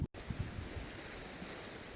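Sea waves wash softly against the shore in Cavtat, Croatia, a faint, continuous hiss and slosh heard after a brief bump at the start, with no voices.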